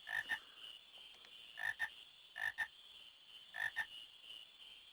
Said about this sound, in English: Aha, frogs